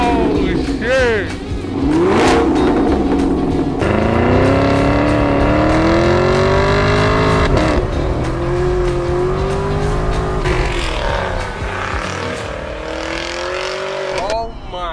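A Chevy Camaro fitted with a Corsa exhaust revs hard and loud, rising and falling in repeated surges with a deep throaty tone, while excited voices shout over it.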